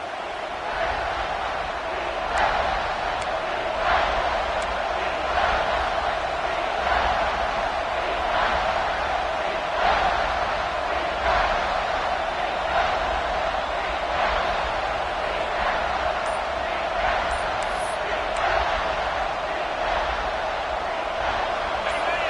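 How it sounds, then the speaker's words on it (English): Stadium crowd in NCAA Football 26, a steady loud roar with rhythmic swells of chanting and cheering throughout. "Big third down as the crowd gets behind this defense."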